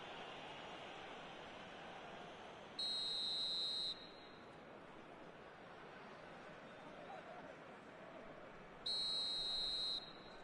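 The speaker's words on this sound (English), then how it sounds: "And with that, the final whistle." Two long, loud referee's whistle blasts in a football video game, each about a second, sounding several seconds apart above steady crowd noise and commentary.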